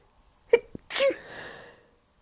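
A single sharp sneeze bursts out close by, followed by a brief breathy exhale trailing off into quiet.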